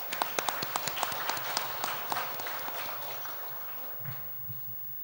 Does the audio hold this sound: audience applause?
yes